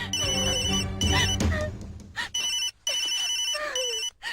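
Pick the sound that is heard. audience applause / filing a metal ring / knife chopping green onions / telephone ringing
telephone ringing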